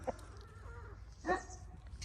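A pet rooster gives two short, harsh clucking calls, one at the start and a louder one a little over a second later. Both are close and separated by quiet.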